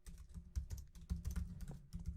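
Short burst of typing on a computer keyboard, a quick irregular run of close, soft key clicks with nothing else audible.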